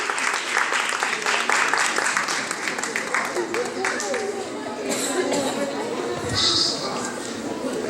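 An audience applauds a contestant at a spelling contest, a dense burst of clapping that is loud and sustained over eight seconds, with scattered chatter and voices mixed in.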